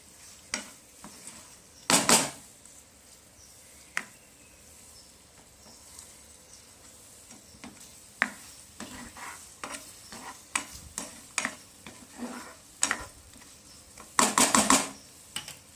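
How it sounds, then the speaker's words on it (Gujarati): Raw mango pieces and jaggery stirred in a pan while the jaggery melts, with a soft ongoing sizzle and scattered scrapes and clinks of a spoon against the pan, louder near the start and end. "આપણો ગોળ પીગળી જાય અને કેરી અને ગોળ એક રસ થઈ જાય ત્યાં સુધી આપણે રહેવા દઈશું હલાવતા રહીશું"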